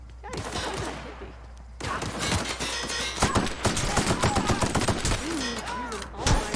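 Gunfire in The Outer Worlds, a sci-fi shooter game, with several rapid shots and bursts over busy in-game combat sound and music.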